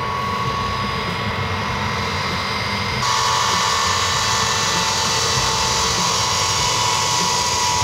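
A Xi'an Y-20 military transport aircraft gives a loud, steady engine roar with a constant high whine, and the sound grows a little brighter partway through.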